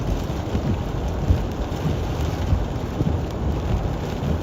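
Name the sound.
thunderstorm with rain and gusty wind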